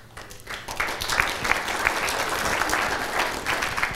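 An audience claps in a sustained burst that builds quickly and holds at a dense, even level, the sound of a large crowd filling the room.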